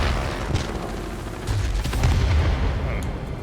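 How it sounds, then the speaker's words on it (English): 37mm cannon shells fired from a fighter plane in World of Warplanes, dull booming shots popping over a constant engine drone, with a voice murmuring in the background. "I'm just not getting those 37mm shells off in time."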